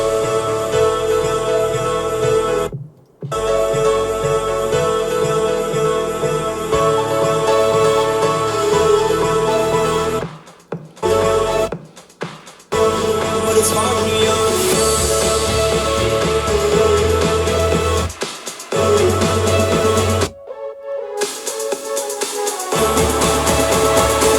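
An electronic dance remix part of a song plays in a studio with the highs and lows filtered away, so it sounds thinner and mid-focused. The loud music continues with several abrupt drop-outs into silence, and no talk is heard.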